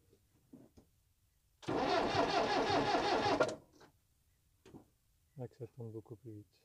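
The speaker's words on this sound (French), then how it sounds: "C'est un petit test de démarrage." A Latil Saviem TL22 truck engine is started with its newly repaired starter, giving about two seconds of loud, dense cranking and turnover. Brief clatter and voices speaking nearby follow.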